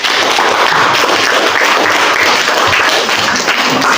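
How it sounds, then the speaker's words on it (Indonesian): Students in an Indonesian classroom clap for a group, a dense, steady wash of applause that fills the whole four seconds at a constant loud level. "Tepuk tangan dulu untuk kelompok."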